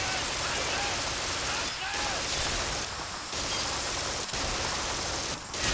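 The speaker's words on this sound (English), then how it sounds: "there is a machine gun in the end of this valley" Continuous dense gunfire in Call of Duty 2, a machine gun at the far end of a valley during the Matmata assault, roaring steadily with a few brief dips throughout.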